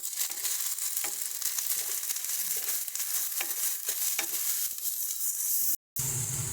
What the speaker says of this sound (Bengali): ভালো করে সমস্তটাকে মিশিয়ে নেব।